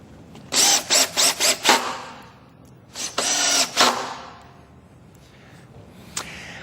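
A power driver sets screws into table brackets with five quick whirring bursts, a pause, then a longer run of driving and a final short tap, close and clear with no talk.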